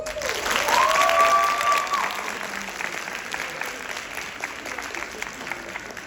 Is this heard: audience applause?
yes